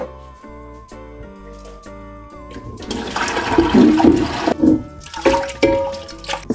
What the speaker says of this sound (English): So you just want to keep washing until there's no more sand in it. Just rinsing.